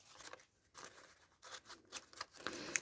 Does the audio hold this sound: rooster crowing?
no